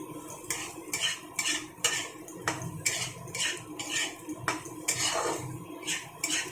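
A spoon mixes rice and other ingredients in a pan with rhythmic scraping strokes about once a second, metallic clinks over a low background, fairly quiet and close.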